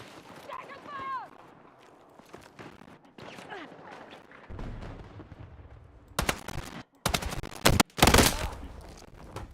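Bursts of automatic gunfire in a video game, loud sharp volleys arriving in clusters near the end after a quieter stretch with a voice and chirping game sounds.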